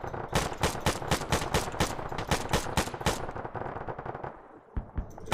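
Rapid bursts of 5.56 rifle fire in a video game, loud and close, a steady run of sharp shots for about three seconds, then thinning to a few scattered single cracks.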